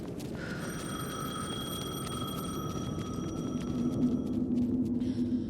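Telephone ringing in the Alan Wake 2 video game, a steady bell-like tone with sustained high harmonics, ringing continuously over a low rumbling ambient bed.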